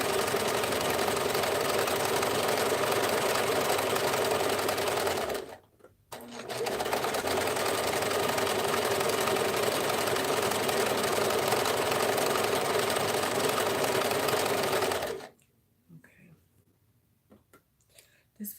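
A sewing machine runs in long, steady bursts at close range, with a short pause near five seconds and a stop around fifteen seconds that leaves near silence.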